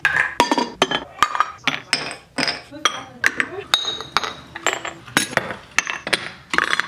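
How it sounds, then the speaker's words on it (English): Wax melt cubes and small parts clink repeatedly as bulbs are replaced and cubes dropped into wax warmers, a steady series of sharp, close glassy and ceramic clicks spread across the clip with no talking. "a little montage of me replacing my bulbs and putting wax melt cubes into them"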